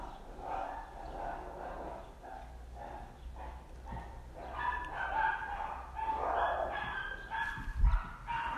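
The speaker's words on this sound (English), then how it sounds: "My neighbor's dogs bark like this every single day." Several neighbourhood dogs bark repeatedly in the background at moderate distance, their yapping and bow-wows continuing steadily with a louder burst near the end; no one speaks over them.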